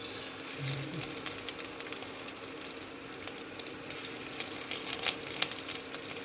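Chicken shami kababs frying in hot oil over a low flame, a faint, steady sizzle and crackle running continuously without speech.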